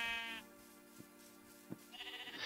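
Minecraft sheep bleat in a loud, nasal cry at the start, followed by a pause with soft clicks and then another wavering bleat at the end.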